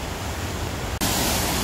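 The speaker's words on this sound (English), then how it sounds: "Nice waterfall feature, and I think there's a waterfall zone going through the rapids on the other side here" A waterfall feature beside the rapids ride at Heide Park theme park gives a loud, continuous rushing wash of falling water, with a sharp cut midway and then an even brighter roar, no voices heard.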